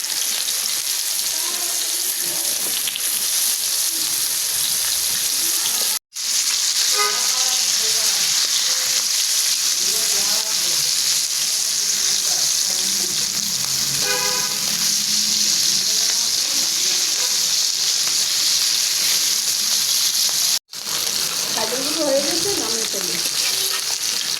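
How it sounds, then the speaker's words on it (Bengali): Khalisa fish fry in hot oil with a loud, continuous sizzle and crackle, broken by brief cuts, while a few voices talk faintly in the background. "মাছগুলি ভাজি কয়েকটা গরম হয়েছে তেল দিয়ে দিই ভালো"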